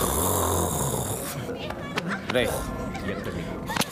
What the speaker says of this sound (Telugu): నీ గురక్క నాకు డైలాగ్ వినపట్లేదు